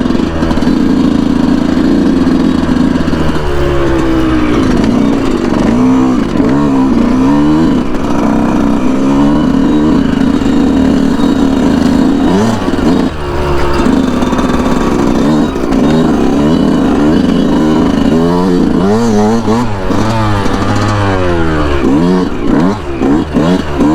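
A 2019 Yamaha YZ125 two-stroke dirt bike ridden hard, its engine loud and close throughout with constant buzzing and repeated rising and falling revs as the rider shifts and accelerates.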